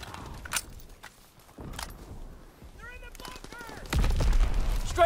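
Strafing run gunfire in the Call of Duty WW2 video game during a Hardpoint match, a rising roar of rapid fire and explosions building toward the end, layered under in-game radio voices.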